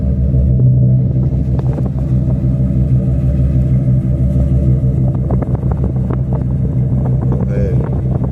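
A 1990 Ford Four Winds motorhome's 460 EFI engine idles through a Flowmaster muffler, a loud, steady, deep exhaust rumble that holds alone throughout with little variation.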